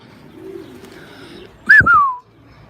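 A single pigeon at a racing-pigeon loft in Osmaniye gives one loud, close whistling coo with a rising then falling two-part call, heard alone over quiet low background noise.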